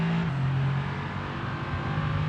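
Mercedes-AMG supercar engine in the video game F1 2022, a loud close drone as revs climb, with a steady tonal whine holding throughout.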